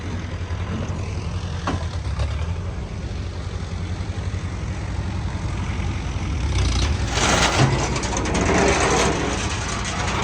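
A modified Kubota mini loader tractor engine runs close by with a steady, buzzing mechanical drone that grows somewhat rougher and louder toward the end.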